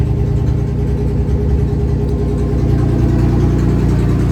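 A Chevrolet S-10 project truck's engine runs steadily at a close, loud idle, a continuous low rumble with an even throb and no voices over it.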